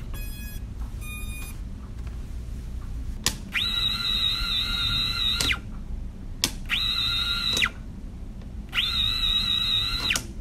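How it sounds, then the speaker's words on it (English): Tiny brushless motors on a BetaFPV Beta65X whoop drone spin up in three separate bursts, each a steady high-pitched whine lasting about two seconds, with short breaks between them and a couple of brief beeps at the start. "how smooth and how quiet these motors are"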